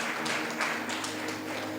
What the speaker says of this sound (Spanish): Podemos dar un fuerte aplauso